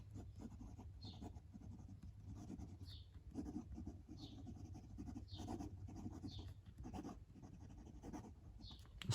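Pilot Custom fountain pen writing on paper with Pilot Iroshizuku Kujaku ink, a fine nib giving a soft, continuous scratchy rasp with short rhythmic strokes repeating through the whole stretch, close and quiet, no talking.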